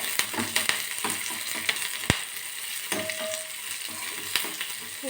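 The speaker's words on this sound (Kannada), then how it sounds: "ಈ ಥರ ಚೆನ್ನಾಗಿ ಗೋಲ್ಡನ್ ಫ್ರೈ ಆಗ್ತಿದೆ" Curry leaves crackle and fry golden in hot oil for a tempering, a continuous close sizzle with scattered pops and one sharp crack, with no talking.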